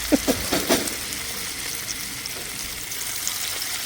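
Telangana maize vadas frying in hot oil in Saudi Arabia, a few splashy drops at first, then a steady, even sizzle that holds throughout at moderate loudness.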